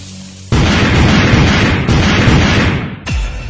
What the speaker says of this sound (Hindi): अभी भी कुछ पटाखे बचे हुए हैं, मैं फिर से ट्राई करता हूँ।